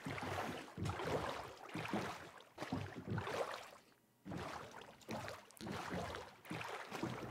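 A boat moving on water in Minecraft, with surging, splashing swells that rise and fall in repeated bursts and one brief quiet gap.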